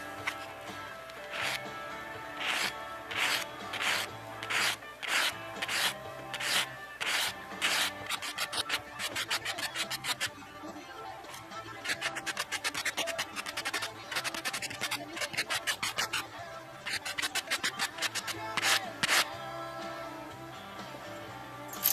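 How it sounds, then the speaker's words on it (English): A silver coin ring being lightly sanded with a 320 grit foam sanding block, making repeated short rasping strokes close up in a quick, uneven rhythm with brief pauses between bursts. "I'm just very lightly with this foam, with this sanding block. This is 320 grit, just lightly"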